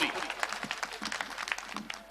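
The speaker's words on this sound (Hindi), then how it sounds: "जोरदार तालियों से इस्तकबाल करें जनाब जौहर कानपुरी" Mushaira audience in Motihari, Bihar applauding to welcome poet Jauhar Kanpuri, with brief, fairly quiet clapping in short uneven bursts and a voice running over it.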